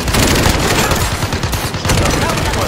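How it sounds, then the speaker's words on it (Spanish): Rapid gunfire in a Call of Duty match, including a shotgun, as a loud, dense volley of blasts that continues the whole time with shouting voices mixed in. "Ese cabrón tiene escopeta, wey. Es una pinche escopeta"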